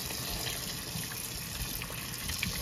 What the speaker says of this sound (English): I think I'll let them soak in some hot water